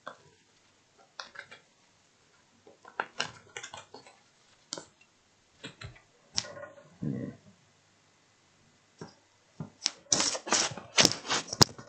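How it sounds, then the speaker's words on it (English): Tarot cards are shuffled by hand in quiet, irregular bursts of soft riffling and tapping, separated by pauses, close and fairly faint. "I'm happy with the shuffle."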